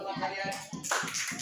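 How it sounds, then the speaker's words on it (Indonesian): Classroom applause for classmates: a short burst of rhythmic clapping from a group of students, steady and close, with a voice faintly heard under it. "tepuk tangan buat teman kalian"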